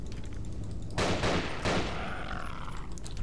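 Gunfire from a gun in the horror video game Nightmare House 2, a couple of sharp, loud bursts over a steady low ambient rumble.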